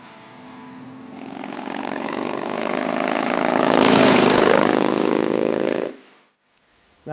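A Victory High-Ball bobber-style cruiser motorcycle engine roars close by, swelling to a loud, steady throaty drone for several seconds before cutting off abruptly into near silence.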